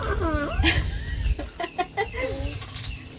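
Chickens cluck and squawk nearby in short bursts, with a flurry of wing flapping and some faint background voices.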